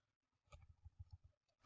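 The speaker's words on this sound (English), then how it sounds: "Here's my bad typing." A short burst of uneven keyboard typing, a handful of soft clicks in irregular rhythm, ending with one louder tap, in a quiet room.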